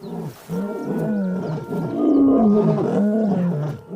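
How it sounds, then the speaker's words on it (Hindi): A lion pride of females and males roars together in the wild, a loud and close chorus of deep, overlapping roars and grunts lasting several seconds. "माएं और नर मिलकर दहाड़ते हैं, अपने झुंड का ऐलान करते हुए।"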